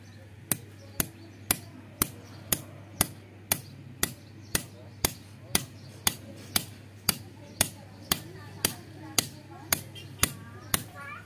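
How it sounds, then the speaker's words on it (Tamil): Light hammer taps punching a Bajaj motorcycle shock absorber bush into place, about twenty evenly spaced sharp knocks at a steady rhythm, close and clear over a low steady hum. "இந்த மாதிரி உட்கார வச்சுட்டு லைட்டாக பஞ்ச் பண்ண"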